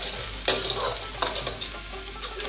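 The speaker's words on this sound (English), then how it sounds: "Saute the garlic. It has to be a little bit brown." Four cloves of chopped garlic sauté in a pan, a close sizzle broken by several sharp stirring scrapes at irregular moments.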